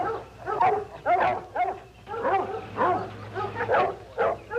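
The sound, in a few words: dogs barking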